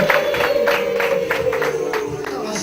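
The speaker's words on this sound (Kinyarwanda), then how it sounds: "Mushyikirize Claudine rwose impundu z'ababyeyi zirihe n'amashyi" Guests at a Rwandan wedding applaud and ululate together, a dense crowd of clapping under a sustained high trilling cry, loud and continuous throughout.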